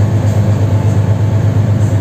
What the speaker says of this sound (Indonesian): Oh, yang berangkat duluan adalah kereta ke jurusan Pariaman ini ya.